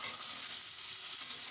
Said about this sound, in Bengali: শুধু আলুটা ভালো করে ভাজলেই কিন্তু হয়ে যাবে।